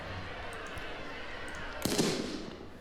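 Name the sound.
smoke grenade thrown in video game Riot Civil Unrest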